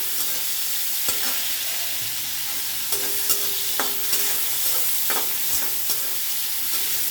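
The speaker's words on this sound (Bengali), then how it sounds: "নুন হলুদ মাখিয়ে রাখা চিংড়ি মাছটা ভেজে নেব" Shrimp rubbed with salt and turmeric frying in oil, a close continuous sizzle with scattered pops and spatula scrapes and taps, no voices.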